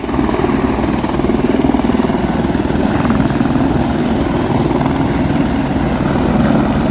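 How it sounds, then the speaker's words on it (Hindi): A helicopter taking off at Kedarnath, its loud, steady rotor thrum and engine roar filling the whole stretch, close by and unbroken. "वो वाला हेलीकॉप्टर उड़ चुका है अभी।"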